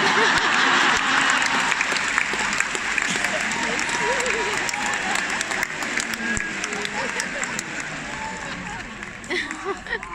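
An arena audience at Rod Laver Arena in Melbourne applauds loudly and continuously, with crowd cheers mixed in, the clapping gradually easing toward the end.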